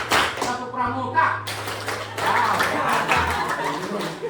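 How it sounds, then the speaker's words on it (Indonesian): Schoolchildren in an Indonesian classroom perform a rhythmic scout clapping routine in counted groups, close and loud, with children's voices and a little chuckling mixed in among the claps. "Tepuk tangan 3 kali. Tepuk pramuka."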